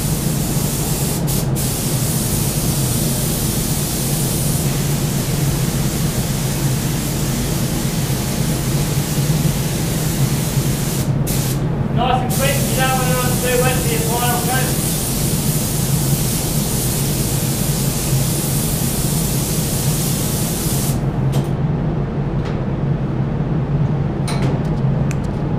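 A spray gun hisses steadily and loudly, laying a metallic base coat onto a car bonnet, with a continuous broadband rush that briefly breaks midway and resumes.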